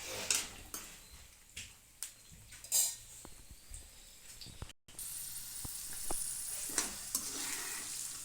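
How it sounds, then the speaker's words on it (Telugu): Dry red chillies frying in oil in a tempering pan, a steady close sizzle broken by repeated sharp scrapes and clinks of a spoon stirring against the metal. "ఇందులోనే ఎండుమిరకాయలు కూడా వేసుకుందాము. వీటిని బాగా ద్వారగా వేయించుకోవాలండి."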